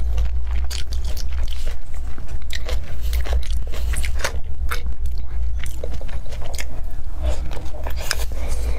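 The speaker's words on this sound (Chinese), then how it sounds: "好久没吃辣白菜了，就突然间吃，感觉好好吃。" Spicy kimchi cabbage is chewed right beside the microphone, giving a continuous wet crunching and squelching with soft rhythmic bites, close and intimate, with no talking.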